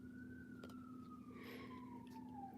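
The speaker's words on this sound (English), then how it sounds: "There's a siren out, and I wonder why." A distant emergency siren wails outdoors in a slow, steady descending tone, faint and continuous under a hum of background noise, with no talking.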